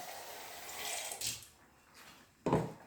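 Water splashes and pours in two short bursts, the second louder and fuller, with a soft hiss of running liquid in between.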